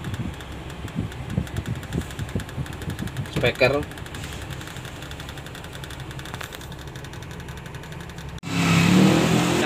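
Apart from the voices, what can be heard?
1981 Toyota FJ40 Hardtop old diesel engine running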